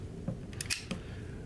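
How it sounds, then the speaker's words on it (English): Cocking the shutter on a worn Rollei 35 TE compact camera, giving a few small mechanical clicks and a brief ratcheting sound, close and quiet against faint background noise. "When you cock the shutter"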